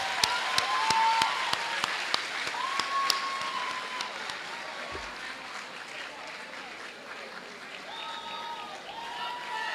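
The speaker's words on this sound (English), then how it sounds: "Shall we give him a round of applause?" Audience applause at a university congregation ceremony: a hall full of steady clapping with a few sharp individual claps up front, fading slightly midway, with voices murmuring underneath.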